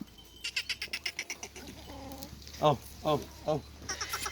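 Goats on a farm bleat in three or four distinct, wavering cries, mid-distance and fairly faint, after a run of rapid rhythmic clicks or bird chirps, with a voice talking quietly under them.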